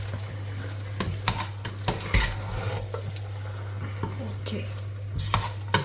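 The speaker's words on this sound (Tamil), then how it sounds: "இப்போது இந்த உலர் திராட்சை இதில் ஆட் பண்ணி இதை அப்படியே கிளறி விட வேண்டியதுதான்" Rice with raisins for Arabian chicken kabsa is stirred in a pot, a spatula scraping and clinking in irregular strokes over a soft sizzle, with one brief spoken word.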